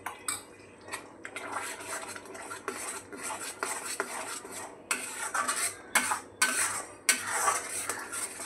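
A spoon scrapes and clatters against a pan while paneer masala paste is stirred until the oil separates, busy metallic rasping and knocks in quick irregular bursts, close and prominent with no voices.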